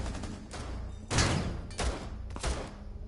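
Gunfire in a tactical shooter game: a few loud, close shots and short bursts, with three sharp heavy reports standing out over a steady background of distant firing.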